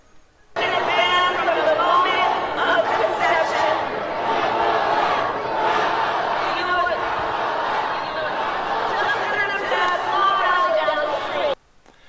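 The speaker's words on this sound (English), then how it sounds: "Boos and yelling were heard at the rally as Harris failed to calm down the rowdy crowd" A rowdy crowd at a Harris political rally boos and yells in a loud, sustained roar of overlapping voices that cuts in abruptly, holds steady for about eleven seconds, then stops sharply.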